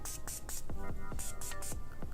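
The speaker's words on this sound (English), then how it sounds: "so I'm going to spray my face again." Makeup setting spray misted onto a face in a series of short hissing bursts, three quick ones, a pause, then three more, close and fairly quiet.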